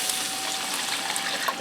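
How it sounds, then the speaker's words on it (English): Beef broth poured into a skillet for stuffed peppers, a soft, steady liquid splash and trickle close by, continuous and even throughout, with no talking. "I'm going to add in 2 cups of beef broth."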